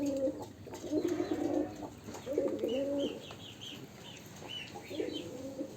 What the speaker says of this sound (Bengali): ঘুঘু আছে এখানে।